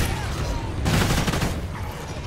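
Rapid gunfire during Call of Duty Ghosts zombies mode, a loud close burst of overlapping shots lasting under a second, over busy game noise.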